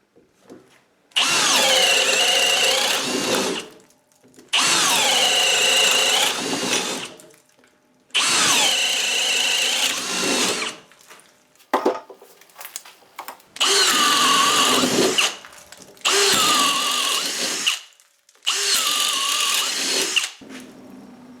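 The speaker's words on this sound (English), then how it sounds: "Starting out, I will use the 2604, and then we'll move into the second 2x4 with the brand new Gen 2 2704." A Milwaukee M18 FUEL 2604 brushless 1/2-inch hammer drill bores holes through a 2x4, running in six loud, sustained bursts of whining motor and chewing wood, with short pauses between each hole.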